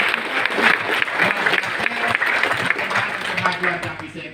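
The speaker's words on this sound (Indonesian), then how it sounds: "Tepuk tangan untuk Bupati." Claps for the regent ring out from an audience at a village officials' training session in Indonesia, dense and fairly close, holding steady before tapering off toward the end.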